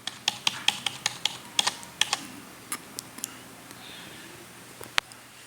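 Keys are pressed on a Dell computer keyboard, about a dozen crisp clicks in a quick uneven run, then a pause and a final sharp tap, close and with no voices.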